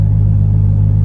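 A 1993 Toyota Supra's engine, just started, runs at a steady low idle, a close, even hum held for about a second.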